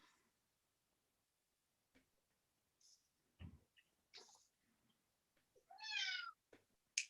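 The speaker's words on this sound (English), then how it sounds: "that was my cat in the background." A house cat meows once, a short clear call in a quiet room, with a few faint soft noises and breaths around it.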